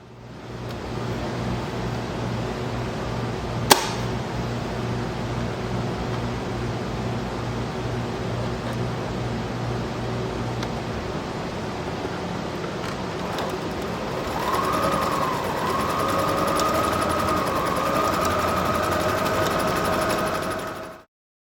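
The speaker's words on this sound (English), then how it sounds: "you can watch me sew the orange pieces here" Sewing machine stitching orange fabric pieces for a candy corn dress, a steady mechanical whir running close for about twenty seconds with a single sharp click early on and a slightly higher, busier tone toward the end.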